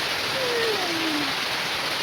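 Summer rain falls as a steady, dense hiss, continuous and fairly loud throughout with no pauses, a faint tonal sweep drifting through the middle.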